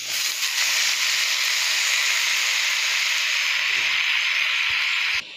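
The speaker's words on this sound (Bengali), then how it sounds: "বন্ধুরা এবার আমি পালং শাকটা দিয়ে দেবো।" Spinach hits a hot pan already holding turmeric, sending up a loud, even sizzling hiss that holds steady for about five seconds before dropping off abruptly.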